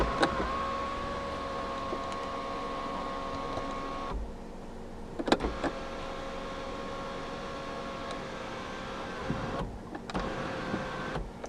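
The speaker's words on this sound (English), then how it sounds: "You do have a fully automatic sunroof in this car." The motorized automatic sunroof of a 2016 Kia Rio 1.4 SX hatchback hums steadily as it moves, with a couple of clicks and brief pauses as the motor stops and restarts, heard close up inside the cabin.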